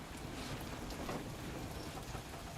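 Rain falls steadily in a video game scene, a soft, even hiss of drops at low volume with no voices over it.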